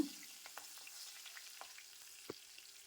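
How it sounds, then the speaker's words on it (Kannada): Garlic and green chillies fry in oil in a kadai, a faint soft sizzle broken by a few light stirring clicks, no voices. "ಬೆಳ್ಳುಳ್ಳಿ ಹಾಗೂ ಹಸಿಮೆಣಸಿನ್ಕಾಯಿನ ಒಂದೆರಡು ನಿಮಿಷ ಎಣ್ಣೆಯಲ್ಲಿ ಫ್ರೈ ಮಾಡ್ಕೊಳ್ಳೋಣ"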